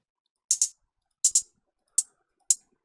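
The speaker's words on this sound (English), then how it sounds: "So I'm gonna click over here." Computer mouse clicks while browsing in FL Studio: two quick double clicks followed by two single clicks, crisp, close and isolated against silence.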